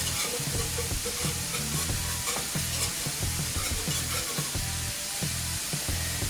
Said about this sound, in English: let this cook until it's ready, till it just gets the flour cooked out of it